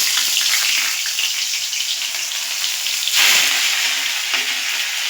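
Chopped green chilies hit hot oil in a kadai along with grated ginger and garlic, giving a loud, continuous close-up sizzle and crackle with a brief surge midway and no talking.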